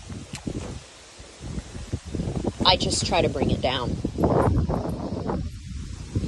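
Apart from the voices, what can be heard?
wind blowing outdoors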